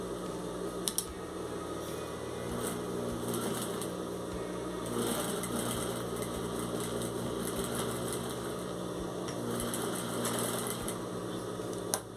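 A sewing machine stitches a 3D patchwork panel, a fast steady mechanical whir with rhythmic needle clatter running continuously up close, with no talking.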